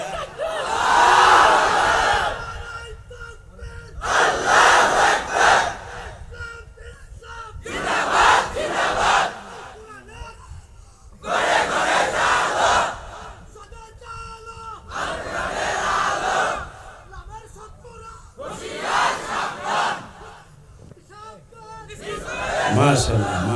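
A large crowd at a religious gathering (mahfil) roars a takbir in answer to a preacher, with loud massed shouts repeating in regular bursts separated by short pauses.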